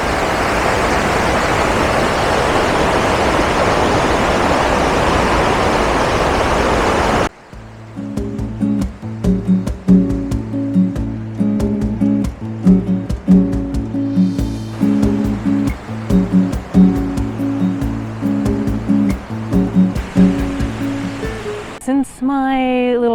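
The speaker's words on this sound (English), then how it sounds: "it actually drops you off at the base of the waterfalls" Waterfalls in Da Lat, Vietnam roar as a loud, steady broadband rush that fills the opening seconds before cutting away to a quieter scene with rhythmic mechanical clatter.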